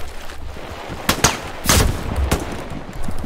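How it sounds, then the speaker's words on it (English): Video game gunfire from an online team shooter, a few loud sharp shots in quick bursts, one heavier report in the middle, close and alone with no talking. "I got the guy shooting at us."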